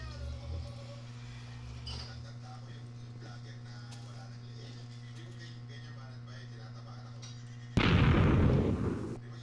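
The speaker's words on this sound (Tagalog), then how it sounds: "sumabog yung creeper" After a stretch of low hum and faint Minecraft game sounds, a creeper explodes with a sudden loud burst that rumbles for about two seconds, with voices heard earlier.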